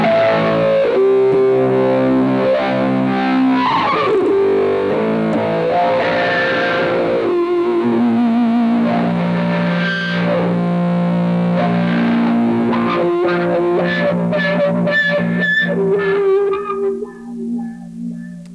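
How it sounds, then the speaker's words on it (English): An electric guitar played through compression, heavy phase shifting and distortion with no reverb or echo gives sustained, swirling, wah-like tones and sliding notes that rise and fall in dense layers, loud and alone. "No reverb, no echo, compression, heavy phase shifting, distortion, and we'll see what this sounds like."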